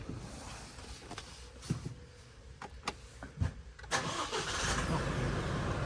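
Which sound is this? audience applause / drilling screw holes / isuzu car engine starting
isuzu car engine starting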